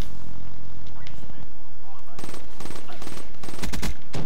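Automatic gunfire from a Call of Duty Black Ops 3 match, with rapid loud bursts of shots and impacts crowding the second half after a quieter opening, heard loud and up front.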